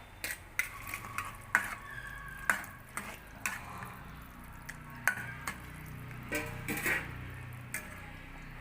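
Okra cooks in a pan of gravy, crackling and sizzling softly, with occasional clinks and stirring taps.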